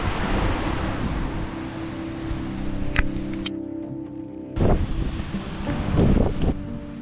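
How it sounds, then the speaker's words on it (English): Strong wind blasts against a tent and microphone outdoors, a loud continuous roar with gusts that surge, drop briefly, then buffet hard again, no voices. "I think the wind got worse."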